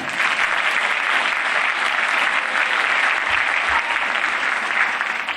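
A school auditorium audience at a winter instrumental concert claps loudly and continuously, dense applause filling the room for several seconds without a break.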